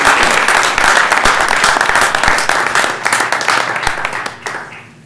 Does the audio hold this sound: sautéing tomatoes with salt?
no